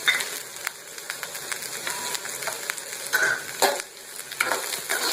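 Ginger and a few garlic cloves fry lightly in oil in a pan, a steady soft sizzle with occasional brief stirring scrapes and pops, close and moderately loud with no talking.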